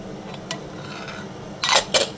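Spices for ghugni being stirred and braised with splashes of water in a pan, a few soft scrapes followed by two louder, brief metal-on-pan scraping strokes near the end, with no talking.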